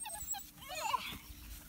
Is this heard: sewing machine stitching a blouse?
no